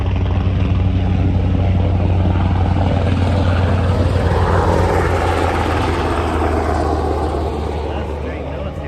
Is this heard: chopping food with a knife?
no